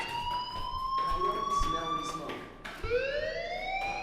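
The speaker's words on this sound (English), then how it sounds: "do you hear that fire alarm? That means you should be outside." A fire alarm rings in the video game Life Is Strange, a steady electronic wailing tone that dips and then sweeps back up, heard with faint background sounds underneath.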